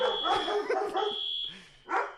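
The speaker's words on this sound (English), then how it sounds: "Oh, I have a smoke alarm test right now." A smoke alarm test sounds as a sustained high electronic beep indoors, mixed with a dog barking loudly nearby in short bursts.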